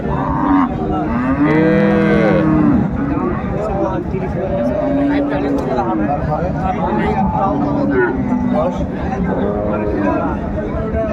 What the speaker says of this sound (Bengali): গাভী বাছুর বেশ সুন্দর কোয়ালিটির আমরা দেখছিলাম